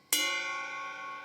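A single 21-inch ride cymbal struck on the bell edge, from the Mixwave Gojira drum plugin: one sharp bright strike with a strong ringing, bell-like tone sustaining and slowly decaying, heard alone.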